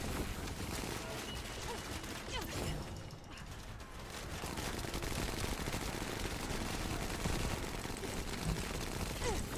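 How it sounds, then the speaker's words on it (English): Restored Relic weapon firing in The First Descendant, a steady, dense stream of gunshots mixed with constant game noise and muffled speech, running continuously with a brief dip midway. "Why is this guy's restored relic firing so slowly?"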